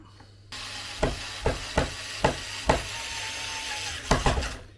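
A ratcheting Phillips screwdriver fastens IKEA Olov legs, giving sharp clicking bursts at a steady pace, roughly eight clear clicks close by over a quiet background hum.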